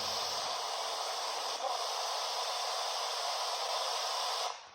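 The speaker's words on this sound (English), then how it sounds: "So hopefully it will allow you to communicate utilising the white noise in between the stations." A spirit box radio sweeps through white noise between stations in a chapel, giving a steady, even hiss that cuts off abruptly near the end.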